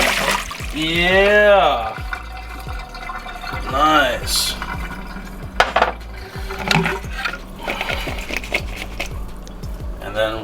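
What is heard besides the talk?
draining boiled frozen edamame into a strainer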